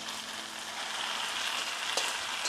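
Boiled noodles for chicken chow mein stir-frying in a pan over low flame, a steady close sizzle with faint clinks of stirring.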